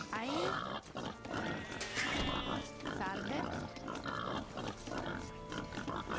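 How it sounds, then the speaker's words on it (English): Boar in the video game Age of Empires 2, grunting and squealing repeatedly over busy game sounds, with a voice talking through the clip. "Come on, stupid boar."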